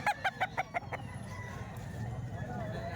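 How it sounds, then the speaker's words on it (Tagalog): A rooster at a poultry sale lets out a short burst of rapid, evenly spaced clucking calls at the start, then fades into a low murmur of background noise. "Ang gandang manok to mga bossing oh."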